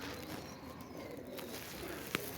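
Soft low cooing from a Kasuri golden pigeon in a loft, faint and murmuring under steady background noise, with one brief sharp click near the end.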